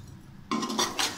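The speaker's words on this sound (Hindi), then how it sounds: "बस ये चीनी डाली हमने और ये मिक्स किया" A utensil stirs sugar into seviyan in a pan, heard as a brief, soft, scraping clatter with a couple of light metallic clinks lasting under a second.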